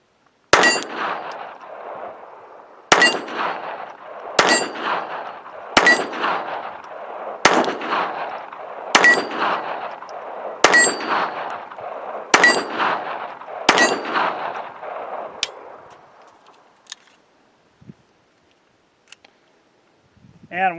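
Nine sharp pops from a Ruger LCP II pistol firing .22LR, each followed by the long ringing clang of a struck steel target. The shots come at a steady pace, and each ring fades before the next.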